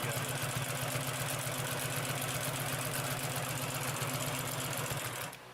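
A Consew P2339RB double-needle walking-foot upholstery sewing machine stitches steadily at an even, rapid rhythm, loud and close, then slows and stops near the end with no talking.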